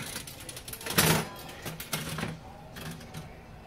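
A 1966 SEGA slot machine being played: mechanical clicks and clattering reel noise, with a louder burst near the start and lighter ratcheting taps after it, heard alone at moderate volume.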